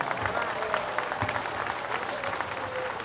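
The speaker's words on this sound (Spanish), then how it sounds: "Pues un fuerte aplauso para Pablo por esta participación" A crowd gathered for a talk in Zinacantán applauds in a steady wash of clapping, with voices murmuring underneath throughout.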